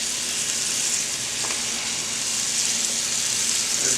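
Chicken pan-fries in a skillet with a steady, close hiss and crackle of sizzling oil that runs on without a break and with no talk.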